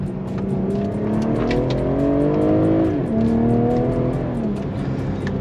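A BMW M340i with a B58 engine and aftermarket exhaust accelerates, a loud, close, rising engine note that dips briefly at a shift and then climbs again.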